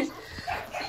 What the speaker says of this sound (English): Beautiful litter of pups.